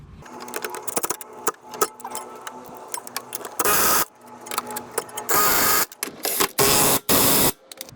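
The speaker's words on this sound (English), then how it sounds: "Tightening up the bolts." Bolts on a 1998 car's suspension being tightened during tie rod and lower control arm work, with clicking and ratcheting followed by several loud bursts from a power tool, near and alone.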